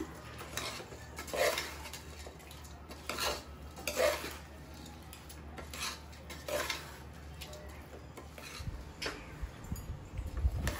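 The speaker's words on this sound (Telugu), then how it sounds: "ఇప్పుడు దీన్ని బాగా మిక్స్ చేసుకుందామండి. ఈ రైస్తో ఈ మసాలా అంతా కొంచెం మిక్స్ అయ్యి కొంచెం ఫ్రై అవ్వనిద్దాం." Rice being stirred and fried with masala in a pan for a vegetable egg biryani: repeated scraping and clinking strokes of a spoon against the pan in a steady rhythm, with a soft sizzle underneath, close up and fairly quiet.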